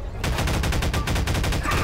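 Rapid, sustained bursts of automatic gunfire in the video game Garry's Mod crackle loudly and continuously, shot after shot in quick rhythm with no pause.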